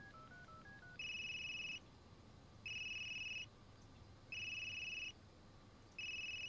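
A phone dials a number with a quick run of keypad tones, then a ringback tone sounds in four regular pulses, each about a second long with short pauses between, faint and alone.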